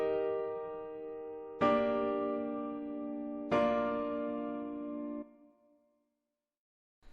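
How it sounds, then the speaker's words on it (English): Plain, unprocessed root-position chords in a music mix, three sustained synth-like chords struck one after another, each ringing for about two seconds before fading, followed by a short silence. "hear a lot of dumpiness in the chords"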